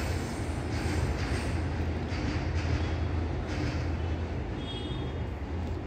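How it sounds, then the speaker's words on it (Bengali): A metro train passing by a house under construction, a loud continuous rumble with rail roar and faint squeals, heard steadily from nearby for several seconds. "মেট্রো যাচ্ছে,"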